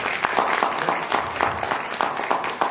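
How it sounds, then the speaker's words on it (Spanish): Audience applause at a conference on the golden ratio in the Mexica calendar, a steady crowd of hands clapping at moderate volume with individual claps standing out, no talk over it. "un aplauso, por favor"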